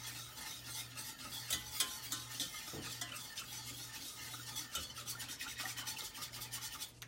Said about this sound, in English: I'm going to stop and stir a little bit.